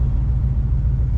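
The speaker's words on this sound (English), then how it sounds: "This is probably not a smart place to like downshift like that, honestly." A Ford Mustang GT engine rumbles loud and close through a downshift on late-night city streets, one sustained deep roar for the whole moment with no voices.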